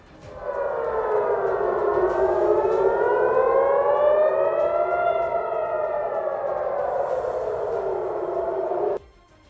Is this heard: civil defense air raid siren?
yes